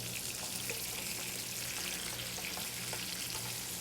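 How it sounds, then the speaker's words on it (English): Beef meatballs fry in a pan with a steady, dense sizzle and faint crackles that hold even and close throughout, no voices. "Let me take a look at our meatballs and see if I can start to get them turn a little"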